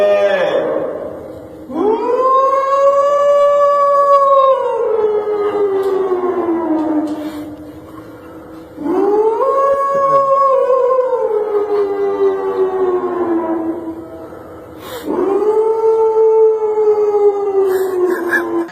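A voice imitates a siren at a mosque to mark the end of the Ramadan pre-dawn meal time, loud rising-and-falling wails repeated three times with short pauses between them.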